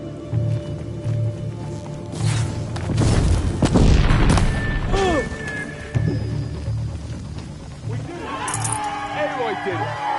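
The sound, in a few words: incoming fire explosions in video game Horizon Zero Dawn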